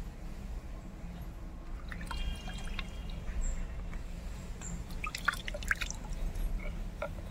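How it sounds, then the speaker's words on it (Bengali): Lotus stems washed by hand in water give faint, scattered drips, splashes and squishy sloshing over a low, steady background hum. "এখন আমি পদ্মলতি সুন্দরভাবে ধুয়ে নেব।"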